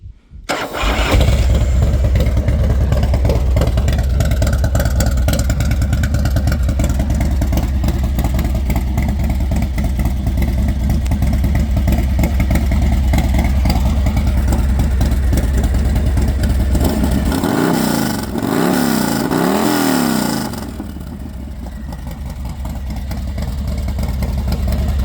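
A 2006 American Iron Horse Chopper motorcycle engine starts and runs loudly and close for a long stretch, then revs up and down in a couple of surges before settling back toward idle.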